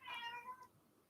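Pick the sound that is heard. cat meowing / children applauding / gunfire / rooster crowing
cat meowing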